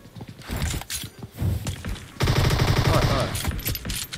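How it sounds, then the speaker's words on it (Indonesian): PUBG Mobile gunfire bursts out in rapid, sustained volleys, with scattered shots early on and then a dense, loud stretch of continuous firing through the second half, partly under voices. "Ditembak dari luar kiri."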